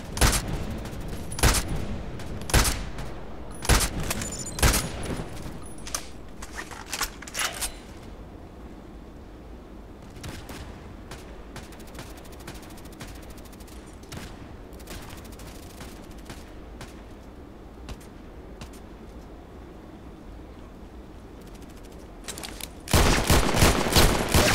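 Gunfire in the shooter game Contract Wars: a burst of loud, sharp shots crackles rapidly at the start, sporadic fainter reports follow through a quieter stretch, then another dense volley erupts at the end.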